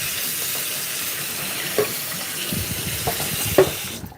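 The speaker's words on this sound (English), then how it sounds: "Let me rinse this cauliflower." Tap water runs steadily into a sink while cauliflower is rinsed, with a few soft knocks and clinks of handling along the way.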